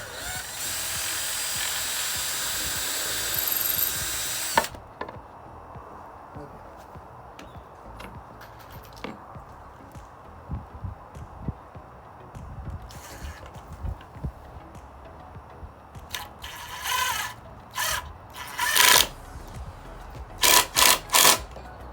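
A power drill whirs loudly for a few seconds while building a wooden reptile rack, then stops; scattered knocks, clicks and short tool bursts follow, ending with several brief drill pulses.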